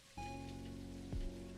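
Steady indoor rain in a video game, a continuous loud patter with a faint tonal hum underneath and a couple of brief thumps, no voices.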